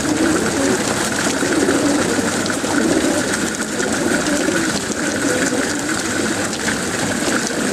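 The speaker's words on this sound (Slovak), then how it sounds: "Všetky holubky krásne papkajú." Gotha pigeons coo while feeding, their soft rolling calls repeating over a constant dense background of flock noise and a watery hiss, close and loud with no talking.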